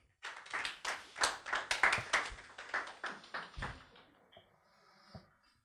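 A short burst of clapping from a small group, rising quickly then thinning out to a few scattered claps before fading.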